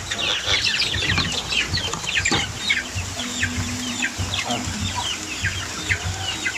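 A crowd of young chicks being raised for sale peeps nonstop, with dense, overlapping high chirps that stay close and steady the whole time. No one speaks.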